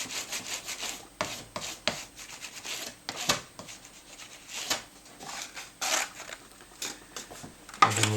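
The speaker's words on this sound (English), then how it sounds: "I'll set it onto this table so that I can actually rub it down" Paper covering being rubbed down with pressure onto a handmade flip-top box on a table: repeated dry scraping and rubbing strokes in irregular bursts, close and moderately quiet, with no voices.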